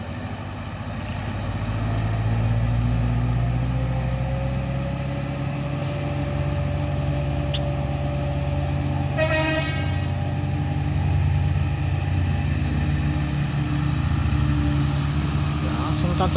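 A fully loaded Colt Diesel single-axle truck towing an L300 pulls away hard, its diesel engine a loud, steady low rumble that builds and holds throughout.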